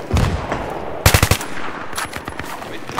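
LH6A2 assault rifle fire in Battlefield 3 on Noshahr Canals: rapid bursts of loud close gunshots, a tight automatic volley in the middle and scattered shots around it.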